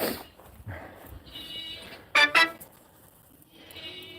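Goats on a farm bleat in a few short calls, including a loud close pair of cries near the middle, over quiet barnyard background.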